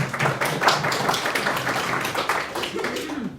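Audience at a Melbourne startup event clapping, a steady patter of many hands at moderate distance, fairly even throughout with a slight fade near the end.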